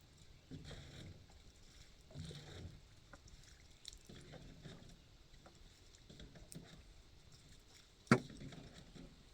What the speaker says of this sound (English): Bailing the boat.